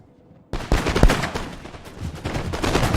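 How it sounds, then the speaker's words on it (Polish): A musket volley from an Empire: Total War battle cracks out abruptly after a moment of quiet, then rolls on as a ragged burst of overlapping shots and echoing gunfire. "i mamy tutaj strzał"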